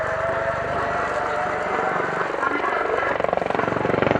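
An Apache helicopter flies aerobatic airshow maneuvers at RIAT Fairford, its rotor chop a steady rapid throb that grows punchier toward the end, with a voice talking over it.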